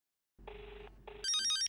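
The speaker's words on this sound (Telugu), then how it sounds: "ఫోన్ రింగ్ అవుతుంది." A telephone rings in a Telugu TV serial scene: two short electronic bell bursts, then a brighter, higher ringing tone, loud and clear against silence, with no voices.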